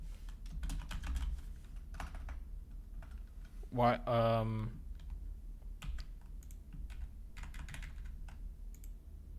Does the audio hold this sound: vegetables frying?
no